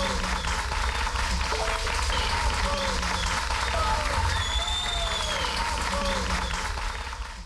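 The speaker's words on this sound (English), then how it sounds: "All the cheering and clapping make me feel like I'm watching a live performance." A crowd applauds and cheers on the closing track of an album, a dense, steady wash of clapping lasting throughout, with faint voices and tonal sounds threaded through it.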